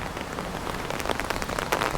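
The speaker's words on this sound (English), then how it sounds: "Yeah, it's got a pretty good rain coming." Steady rain falling on a street in Chiang Mai, Thailand, during the rainy season, a dense continuous hiss with scattered closer drops spattering nearby, no voices.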